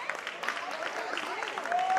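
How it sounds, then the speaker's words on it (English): Applause from the audience at a powerlifting invitational, honoring women lifters after a meet full of personal records; steady crowd clapping mixed with voices and cheers, moderately loud throughout. "a big round of applause for these girls"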